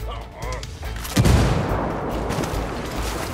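In the tactical shooter Ghost Recon Wildlands, a grenade blast erupts suddenly after a quieter stretch, a loud broadband boom that decays into a rumbling, crackling tail with scattered gunfire-like bursts.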